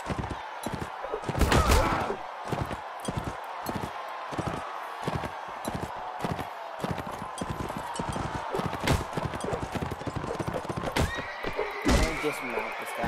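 Horses in the Mount & Blade Warband video game whinny and clop their hooves in a steady galloping beat, with a louder neigh early on, battle clatter around them and someone talking over it.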